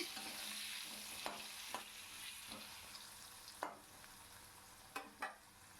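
Cut potatoes fry in oil in a pan, a soft steady sizzle broken by a few sharp scrapes of stirring, fairly quiet and without talk.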